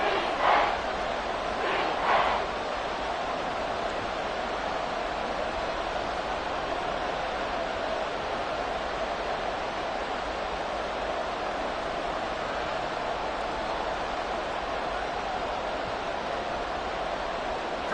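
A stadium crowd in an EA Sports American football video game roars as a steady, dense wash of noise, with a few louder shouts early on, then an unbroken sustained din.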